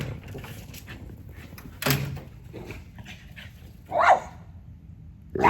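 Dogs bark indoors in a few short, sharp bursts separated by quieter gaps, the loudest near the middle and another starting at the end.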